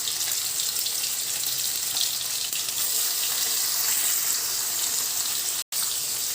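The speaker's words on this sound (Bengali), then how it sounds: "দেখো এই যে পনিরটা আস্তে আস্তে ভাজা হচ্ছে" Paneer pieces frying in mustard oil give a steady, close sizzling hiss that runs evenly, cut by one brief silent gap near the end.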